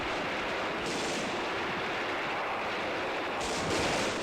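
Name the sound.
gunfire in a drama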